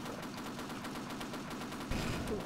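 Gunfire in the Half-Life co-op game Sven Co-op: rapid automatic shots in a steady fast rhythm, fairly quiet in the mix, continuing throughout with a slightly heavier burst near the end.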